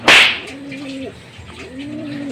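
Racing pigeons give soft, close cooing calls in two drawn-out phrases, with a sharp slap or flutter at the very start and light background noise.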